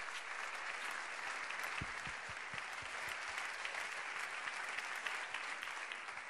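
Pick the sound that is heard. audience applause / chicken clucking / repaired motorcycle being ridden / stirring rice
audience applause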